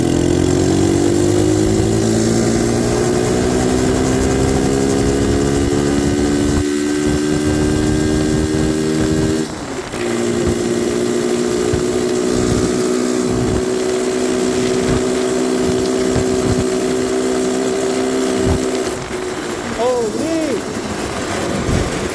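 An X18 pocket bike's small engine runs steadily up close, a loud buzzing drone with rising and falling revs and brief dips, while a rider speaks over it.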